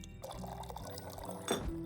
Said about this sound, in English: So I pour it on the damn handle instead of the drink itself.